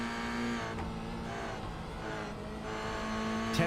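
A race car engine in a GR Cup sim racing game at CTMP holds a steady high-revving drone at full throttle, with harmonic pitch shifts through gear changes and a brief sharp burst at the end.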